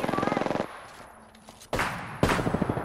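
Rapid automatic weapon fire in Apex Legends rattles in quick, even bursts, pausing briefly before resuming loud and close with more fast strings of shots.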